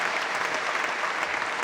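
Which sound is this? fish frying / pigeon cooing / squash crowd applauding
squash crowd applauding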